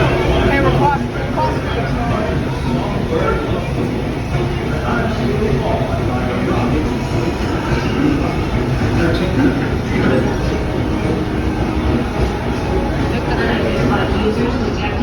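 Walt Disney World Railroad steam train rolling along near Tomorrowland, a steady loud rumble of wheels and carriage with rattles throughout, while a robotic-sounding announcer voice talks over the ride.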